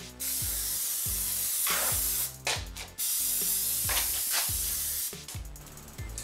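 Aerosol can spraying a light tack coat of Plasti Dip onto the grille of an Infiniti G35, heard as close, loud hissing bursts broken by short pauses and the rattle of the can's mixing ball.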